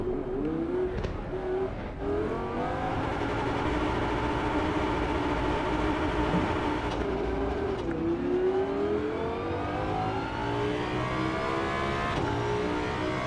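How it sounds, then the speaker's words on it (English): Virtual V10 race car in Assetto Corsa EVO, engine tone climbing and dropping through gear changes with a high differential whine layered on top, loud and continuous with no talking. "That V10 noise is very good. And the diff whine as well."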